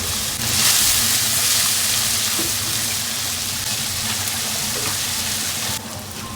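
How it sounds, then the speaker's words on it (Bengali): Onion paste frying in a pan for chicken curry with Kashmiri red chilli, a steady, loud broadband sizzle that holds evenly for several seconds before easing slightly at the end. "পেঁয়াজ বাটাটা দিয়ে ভালো করে কিন্তু এভাবে নাড়িয়ে কিন্তু ভালো করে এটাকে ফ্রাই করে নিতে হবে"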